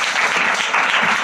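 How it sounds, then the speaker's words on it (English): An audience applauds at a seminar, steady dense clapping that stays loud and even for the whole moment. "Clap for her."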